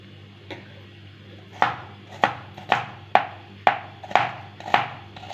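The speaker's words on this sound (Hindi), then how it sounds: "ये देखिए प्याज हो रही है कटिंग" A knife chops onions on a board for pasta in a home kitchen, giving a run of about nine sharp, close knocks at an uneven steady pace after a short quiet start.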